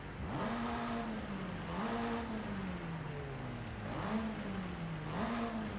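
A race car engine with a full race exhaust revs repeatedly in Forza Horizon 5, raspy, pitch climbing and falling in waves, steady and close with no talking.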